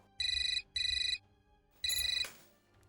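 A landline telephone at home rings in three electronic warbling bursts, two close together and a third after a pause, loud and near with no talk over it.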